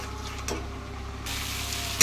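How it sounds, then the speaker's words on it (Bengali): Spices for a goat meat and potato curry fry in a pan with a steady close sizzle, a scrape of stirring partway through and a sharper clatter at the end; no voices. "আর এটা একটু কষাবো।"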